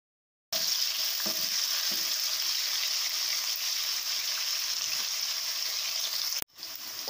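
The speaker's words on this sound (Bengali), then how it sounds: "পেঁয়াজটাকে হালকা একটু ভেজে নিব" Chopped onions dropped into hot oil, a loud continuous sizzle that starts abruptly and holds steady, briefly cutting out before resuming, with no talking.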